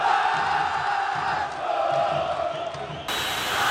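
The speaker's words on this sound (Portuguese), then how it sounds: "Grande vitória do Vasco aqui no Maracanã. Importante vitória, a torcida faz uma bonita festa." A large football crowd at Maracanã roars and chants in celebration of a Vasco win over Fluminense in the 2006 Copa do Brasil, a dense continuous wall of cheering.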